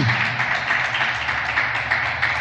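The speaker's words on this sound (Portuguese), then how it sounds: "Aplauda o Senhor Jesus de Nazaré bem forte." A church congregation bursts into loud, sustained applause after a Portuguese sermon exhortation, a dense, even roar of many clapping hands close by with little else over it.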